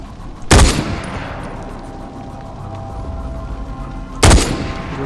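Two loud gunshots ring out a few seconds apart in Far Cry 4, each followed by a rumbling echo over steady background noise.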